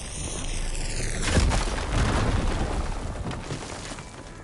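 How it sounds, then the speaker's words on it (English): A fire gleam blows up in the video game Horizon Forbidden West, a loud boom at about one and a half seconds that gives way to a rumbling, crackling tail. A descending tonal game effect is heard just before the blast. "Should be able to blow up that fire gleam."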